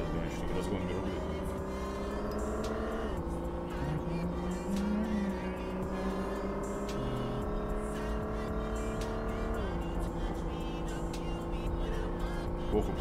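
An engine revs hard in the City Car Driving video game as a Mercedes G-Class accelerates, its pitch climbing steadily and dropping sharply at two gear changes, loud and continuous throughout.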